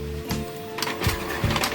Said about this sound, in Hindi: प्रिंट कमांड मैंने दे दिया है, ये प्रिंट आउट आ रहा है बाहर।